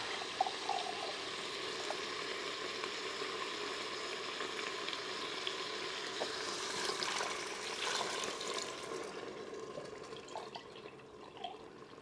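About three cups of vegetable broth poured into an Instant Pot for zuppa toscana, giving a steady splashing, hissing liquid rush that runs the full length without speech, with small drips and bubbling near the end.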